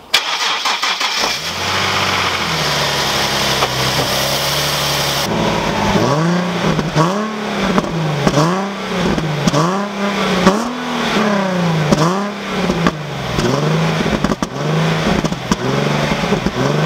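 A car engine cranks and catches after a brief quiet stretch, then settles into a loud, close, rhythmic series of revs that rise and fall repeatedly with no talking.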